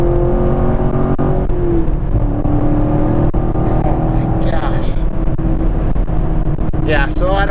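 A 2017 Chevrolet Camaro SS 1LE accelerates hard, its engine roaring loud and close and rising in pitch without a break, while someone talks over it throughout.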